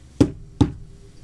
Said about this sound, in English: Mr. Putter and Tabby knocked on Mrs. Teaberry's door.